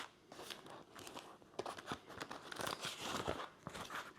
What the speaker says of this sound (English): Now let's unwrap our bread here.